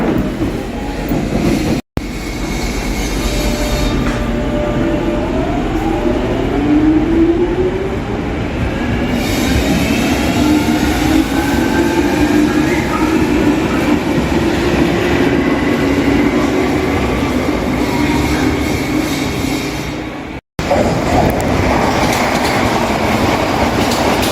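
A London Underground Jubilee line train roars loudly through a tunnel, wheels rumbling and clattering with rising and falling squeals of metal throughout.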